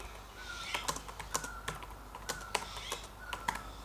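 Keystrokes from typing code on a computer keyboard: a quick, irregular run of crisp clicks and taps, close and fairly quiet, with no one talking.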